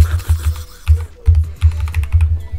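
Rapid irregular clacking of computer keyboard keys, close and loud, as someone types in quick bursts with short pauses.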